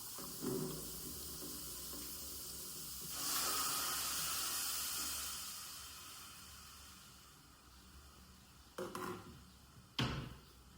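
A kitchen tap runs water with a soft hiss that swells for a few seconds and then fades, followed by a couple of brief clinks or splashes.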